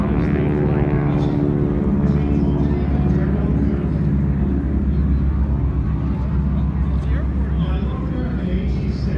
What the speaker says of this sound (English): the next aircraft on the takeoff roll, this particular airplane also silver with green stripes on the wings